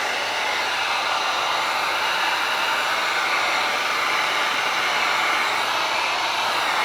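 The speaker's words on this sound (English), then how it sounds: "to flash the part between sprays, you just need to hit it with the heat gun" A heat gun drying a freshly sprayed coating on a dirt bike part, blowing a constant, loud, hissing whoosh that runs steadily without a break.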